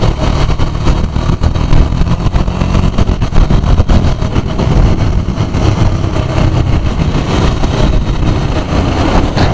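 Steady, loud engine drone from a KTM Duke 250 motorcycle being ridden, a continuous throaty hum with dense road and wind noise throughout and no pauses.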